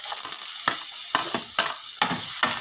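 Garlic hits hot oil in a pan for salmon-head sinigang in miso, a loud bright sizzle broken by several sharp scraping strokes of a spatula.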